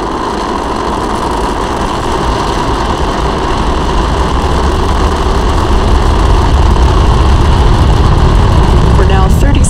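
Roar of a SpaceX Falcon 9 rocket's engines during ascent, heard as a steady, loud, dense broadband rumble that holds constant throughout.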